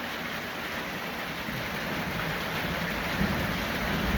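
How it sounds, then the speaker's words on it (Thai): Steady rain pouring down around a house on arrival home, a dense continuous hiss that holds constant and close, with a slight swell near the end and no voices. "ฝนตกแล้วพี่น้องมาหอดบ้านพอดีฝนตกครับผม"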